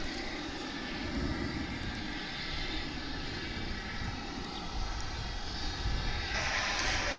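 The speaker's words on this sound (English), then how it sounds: "And there's that MD-11, which we think may be going out." A McDonnell Douglas MD-11 airliner at Dallas/Fort Worth International Airport gives a steady, broad engine roar that holds at an even level throughout, heard from some distance with no voices.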